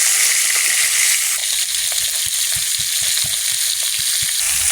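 Pieces of fish frying in oil give a dense, continuous sizzle with soft rhythmic bubbling pops underneath, close and fairly loud, with no talking.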